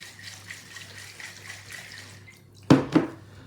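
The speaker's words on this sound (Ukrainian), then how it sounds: "І добре перемішаємо" Cranberry berry base being stirred with alcohol in a container, a couple of short liquid sloshing bursts near the end after a quiet, steady background hum.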